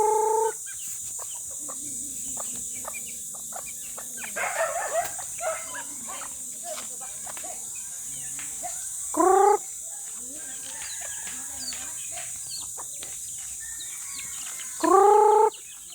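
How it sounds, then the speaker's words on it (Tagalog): Chickens cluck and murmur around a yard while roosters crow loudly twice, close and distinct, over steady background hiss and scattered small noises. "Madami ng tandang ko guys oh."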